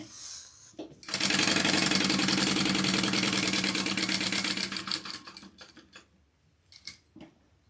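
A sewing machine runs in one fast steady mechanical whir with rattling bobbin clatter for about four seconds, then slows and stops, followed by a few light clicks nearby.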